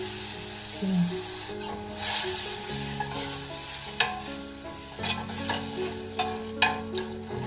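Tamarind juice is stirred into a sizzling Kerala sadhya curry, the spoon scraping and swishing through the pan in repeated strokes over a steady frying hiss, close and clear.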